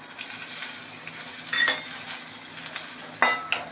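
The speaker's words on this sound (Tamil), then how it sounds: "கடுகு உளுத்தம்பருப்புலாம் பொரிஞ்செடுத்து தயிரில் போட்டு" Mustard seeds, cumin, urad dal and curry leaves crackle in hot oil for a tempering. A dense sizzle runs throughout, broken by several sharp pops and spatters toward the end.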